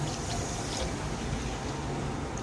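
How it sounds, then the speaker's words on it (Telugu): Water from a medium-sized glass is poured into a pan of paneer bhurji gravy, making a steady, even splashing rush that carries on without a break and with no talking. "అలా కలుపుకొని మీడియం సైజ్ గ్లాస్ వాటర్ వేసుకోవాలి"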